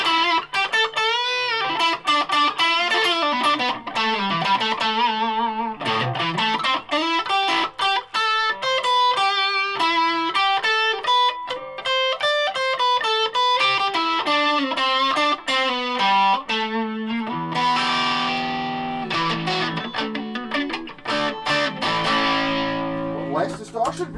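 A Fodic Telecaster-style electric guitar played through a Joyo British-sound distortion pedal, with continuous overdriven melodic runs and chords, loud and close, with no talking.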